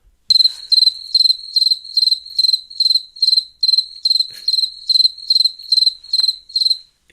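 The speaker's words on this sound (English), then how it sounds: "it's crickets. Nobody talking." Crickets chirp in steady, evenly spaced pulses, loud and close, an insect trill repeating about twice a second with nothing else around it, standing in for an awkward silence.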